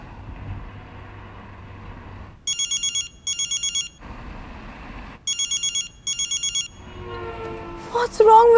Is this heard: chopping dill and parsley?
no